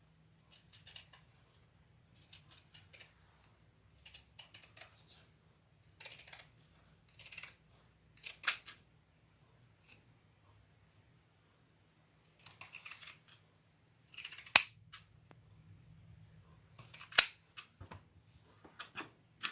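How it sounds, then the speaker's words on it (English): Pinking shears snip through fabric around the curved edges of a crossbody bag, giving short bursts of crisp, close cutting clicks in irregular clusters with quiet pauses between them. "I am going to do some pinking shears on my curves."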